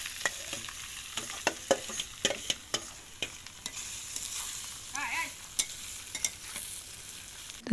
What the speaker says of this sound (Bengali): সেদ্ধ করা আলুটা খুব ভালো করে ভাজতে হবে